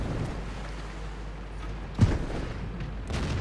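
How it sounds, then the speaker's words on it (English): Artillery shells land around a tank in World of Tanks, a single distant boom standing out over a steady low rumble of battle noise. "Shells landing all around"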